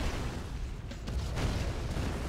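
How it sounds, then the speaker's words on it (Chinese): Cannon fire and explosions rumble through a Red Alert strategy-game battle, a dense, steady wash of booming low noise with a few sharper bursts in the middle, no voices. "大炮一放"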